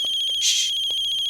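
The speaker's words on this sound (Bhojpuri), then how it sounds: "भाभी के फोन है, भाभी के।" A telephone ringing with a steady, bright electronic tone and a brief louder swell in the middle, close and alone without talk.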